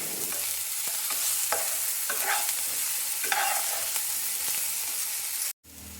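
A tomato mixture is stirred in a hot frying pan, giving a steady close sizzle with scraping spoon strokes throughout, then a brief cut to silence before the frying resumes.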